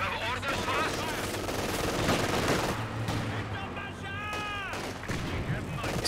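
PTRS anti-tank rifles firing in a Company of Heroes 2 battle, heavy shots cracking amid continuous gunfire, machine-gun bursts and explosions, with a voice talking over the din.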